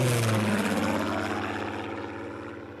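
Propeller aircraft engines from Spitfire fighters flying in formation drone loud and steady, a rich harmonic roar that slowly fades as the planes pass.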